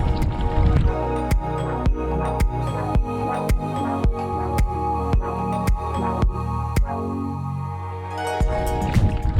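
An inflatable canoe rowed on a lake at Ridgway State Park, with regular paddle strokes landing about twice a second as soft splashing knocks over a steady watery background.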